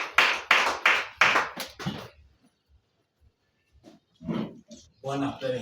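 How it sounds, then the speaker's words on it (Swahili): A church congregation at a new year service claps in a burst of several loud, quick rounds, then goes quiet before voices rise again near the end. "Tupigie makofi."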